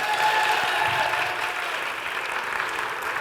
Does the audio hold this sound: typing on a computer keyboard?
no